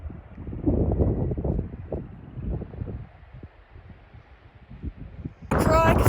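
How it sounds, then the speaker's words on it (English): Strong, gusty wind on a mountain lookout in the Tetons, buffeting the microphone in loud, rough bursts that swell and drop, with a brief sharper noise at the end. "the wind got so bad once I passed around a spot, and the wind is horrible"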